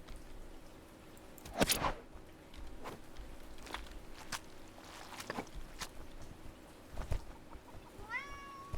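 A pet cat gives one short, clear meow near the end, following soft footsteps, rustling and a sharp scuffing noise close by.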